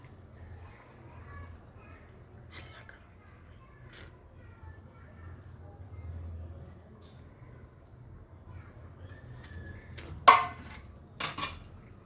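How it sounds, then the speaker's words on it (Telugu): A spoon stirring boiled eggs into a pot of egg masala curry, giving soft scattered scrapes followed by a few sharper metal clinks against the pan near the end, with quiet background noise and no talking. "ఈ విధంగా వేసేసుకొని మంచిగా కలుపుకుందాం"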